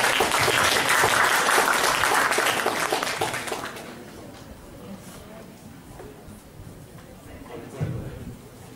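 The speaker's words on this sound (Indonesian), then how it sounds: "Tepuk tangan sekali lagi untuk kelima pembicara." An audience applauds five speakers at a university session, dense sustained clapping for about four seconds that then fades out into quieter room noise.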